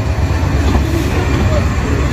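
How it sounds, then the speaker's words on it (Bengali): Train pulling out of Mirzapur railway station in Bangladesh, a loud low rumble of moving carriages with someone talking over it. "আবার ট্রেন ছুটে যাচ্ছে মির্জাপুর থেকে, রেল স্টেশন থেকে"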